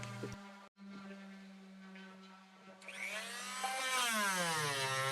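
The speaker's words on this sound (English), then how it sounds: "basically going to have to cut every one of these fasteners free. Luckily they're bronze, but unluckily I'm using these exchange blades" A power tool's blade cuts through bronze fasteners on a wooden boat, a close, loud whine that stops briefly, then restarts and rises into a harsher, shifting grinding screech.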